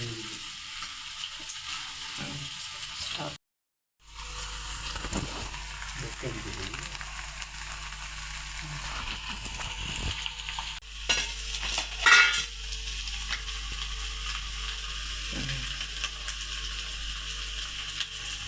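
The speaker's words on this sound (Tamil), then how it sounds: "நன்றாக வெந்தவுடன் பொறித்து எடுக்கவும்" Cauliflower pieces fry in a pan, making a steady sizzling hiss under intermittent stirring, with scraping and clinks of a utensil against the pan, close and moderately loud, briefly dropping out early on.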